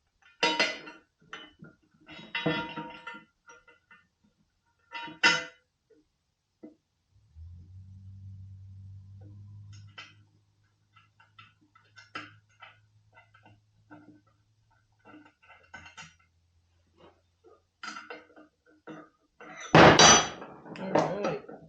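Metal bolts being handled and clinked while fitting a Harbor Freight winch mount in a garage, sporadic close clanks and rattles with long quiet gaps, a low rumble in the middle and a loud clatter near the end.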